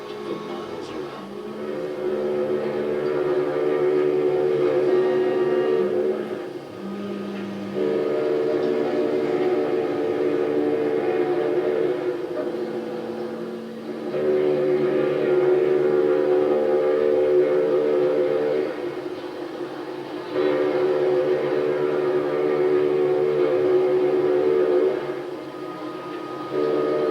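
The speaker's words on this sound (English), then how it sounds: "The Queen Mary's sirens are silencing the busy New York waterfront for miles around." The Queen Mary ocean liner sounds its sirens over the New York waterfront, long loud horn blasts repeating in a slow rhythm, each held for several seconds with brief pauses between.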